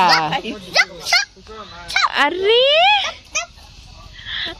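A dog yips and whimpers in short high bursts, mixed with people's voices talking close by.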